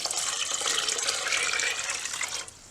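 Water pours steadily into a cooking pot for a split pea recipe, a bright, splashing gush that runs continuously and then cuts off shortly before the end.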